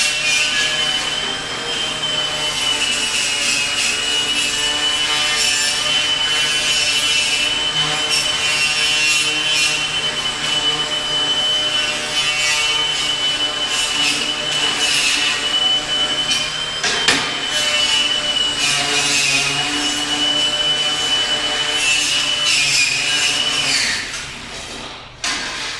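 A wire wheel grinds dross off the back of plasma-cut steel for a fire pit, giving a loud, continuous, close whine and scrape that holds steady for about 24 seconds before winding down.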